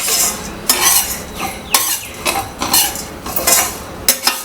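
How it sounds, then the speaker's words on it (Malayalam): A spoon scrapes and stirs brown rice and dal dry-roasting in a pan over a medium flame, giving repeated close metallic scrapes with light sizzling and no talk. "ഇളക്കി കൊടുക്കാം. ഒരു മീഡിയം ഫ്ലെയിമിലിട്ടിട്ട് വറുത്തെടുക്കണം."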